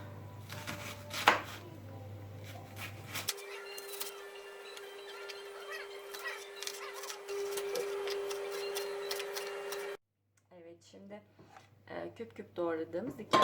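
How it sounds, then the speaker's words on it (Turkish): Onions are diced into small cubes with a knife while stuffed grape leaves are being prepared: a few quick knife taps on a board, then a steady kitchen hum, with a voice talking near the end. "Öncelikle soğanlarımızı e, küp küp doğruyoruz."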